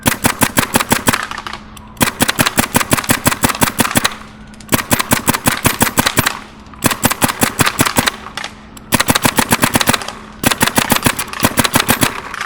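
Tippmann A-5 and Tippmann Raider paintball guns fire loud rapid bursts of sharp pops outdoors, several strings of quick shots broken by short pauses, close and dominant.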